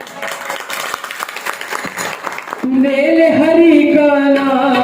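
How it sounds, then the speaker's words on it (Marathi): A gathering at a Shiv Puran katha bursts into a short round of dense clapping, then the clapping gives way to music with singing. "या सुंदर अशा झाकीसाठी सगळ्यांनी एकदा जोरात टाळी वाजवायची आहे"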